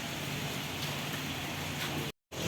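Steady rain pours at a valley viewpoint, a dense, even hiss of drops hitting surfaces that holds constant before cutting out briefly near the end.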